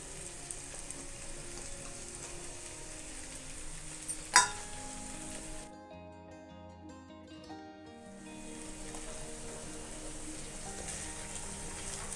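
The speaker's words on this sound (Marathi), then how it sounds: "आता आपण यामध्ये ज्या भाज्या घेतलेल्या आहेत त्या सर्व भाज्या घालून घ्यायच्या आहेत" Vegetables frying in spiced oil for traditional bhogi bhaji, a steady sizzle with one sharp clatter, briefly dropping away before the frying hiss returns.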